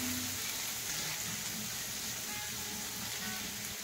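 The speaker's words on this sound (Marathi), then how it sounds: "आता हे सर्व मिश्रण आपल्याला मिक्स करून घ्यायचं आहे. 1 ते 2 मिनिटं परतून घ्यायचं आहे" A green chili, garlic and ginger paste mixture fries in a pan for palak puri, giving a soft continuous sizzle and crackle, faint and steady with a few small pops.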